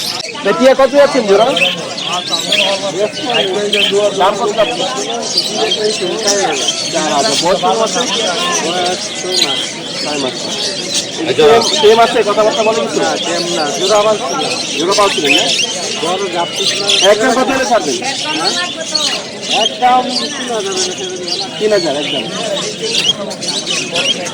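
Young starlings and mynas at a Saturday bird market in Puthia give busy chirps and squawks, heard under constant crowd chatter and nearby talking.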